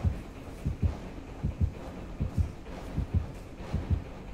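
Heartbeat sensor in the Dead by Daylight video game, a steady double-thump pulse repeating about every 0.7 seconds, low and throbbing under faint game ambience.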